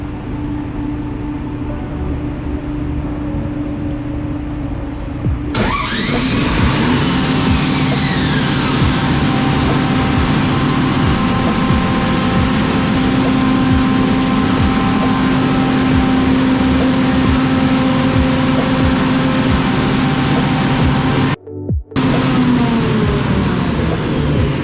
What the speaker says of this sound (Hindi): So will start the emergency generator now.